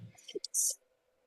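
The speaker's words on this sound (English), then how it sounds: "I have not heard anyone sneezing on a podcast. Well, we'll keep it then. It was a very quiet sneeze." A single quiet, short sneeze, breathy at first and ending in a sharp hiss, in an otherwise quiet room.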